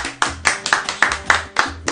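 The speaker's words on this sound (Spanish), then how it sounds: "¡Un aplauso!" A small group claps in quick, steady unison, about four beats per second, to cheer a prize-draw winner at an event; the claps are close, crisp and evenly paced, with no talking over them.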